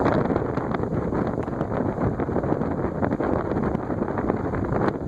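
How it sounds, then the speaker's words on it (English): A Fresh'nd Aire 20-inch antique pedestal fan, model 20, runs at high speed, giving a loud, steady broadband rush of air with faint rhythmic blade flutter throughout. "It is blowing some serious air"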